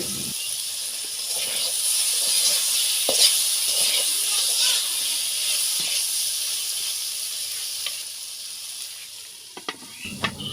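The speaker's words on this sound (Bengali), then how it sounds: "এখন এভাবে এটা নেড়ে চেড়ে ক্রিস্পি করে ভেজে নিব" Sliced pointed gourd (potol) frying in a wok, a steady hiss and sizzle that runs throughout with occasional scrapes and clacks of stirring, and the sizzle thins out near the end.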